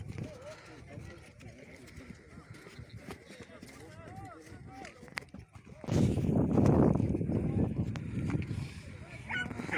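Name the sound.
stallion neighing and hooves clip-clopping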